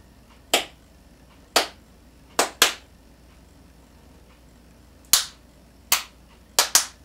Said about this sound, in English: Listen, think, and then clap.